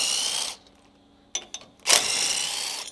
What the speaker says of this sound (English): we're going to use a 17mm, and we're going to take out the 2 bolts on each side, so 4 total